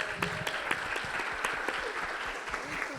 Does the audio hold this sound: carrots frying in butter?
no